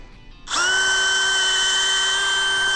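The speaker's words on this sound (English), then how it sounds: "all you gotta do is take a drill" A power drill bores into a tree trunk that is not a maple, starting abruptly and then holding a loud, steady high whine close to the microphone.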